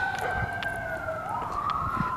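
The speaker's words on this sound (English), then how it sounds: "Sounds like an ambulance, maybe? I think an ambulance." An ambulance siren wails along a city street on a walk to the subway, a steady tone sliding between pitches, moderately loud at middle distance over faint street noise.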